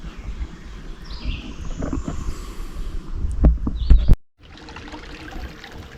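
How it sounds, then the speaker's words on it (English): Water spills steadily over a small waterfall on Holmes Creek, a continuous near wash of trickling and pouring with faint bird calls in the background, broken by a brief drop in sound near the end. "not really a waterfall, but well, I guess it is a small waterfall"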